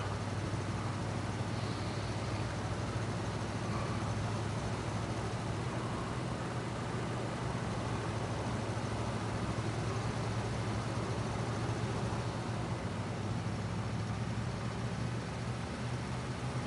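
A SnowRunner truck engine left running while the driver works on groundwork for a hydro power plant, a steady low drone with a constant hum and no change in pitch or loudness throughout.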